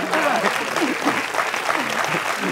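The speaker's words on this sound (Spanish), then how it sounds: "un fuerte aplauso para estos 2 grandes actores" Studio audience applause for two actors on the Spanish late-night TV show Noches con Platanito, a steady dense clapping wash with a few voices mixed in.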